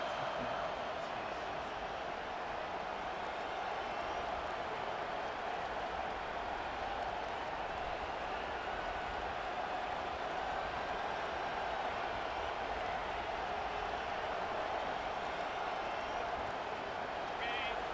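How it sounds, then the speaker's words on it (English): A large crowd roars steadily at a distance, a constant dense wall of cheering with no pauses, like a packed stadium, in the video game EA Sports College Football 25. "Listen to this crowd just shaking the girders of this place"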